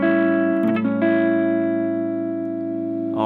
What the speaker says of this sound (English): we're going to play A dominant 7 in kind of an interesting way